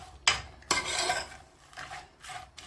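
A spoon stirs onions with bay leaves and salt in a pot over medium-low heat, giving a few close, rasping scrapes and rubs in short bursts with pauses, no voices.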